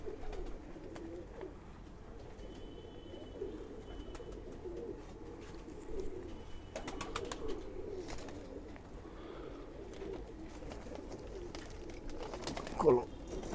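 Khaki pigeons coo softly in low repeated calls under a background of murmured voices and handling noises, with one louder knock near the end.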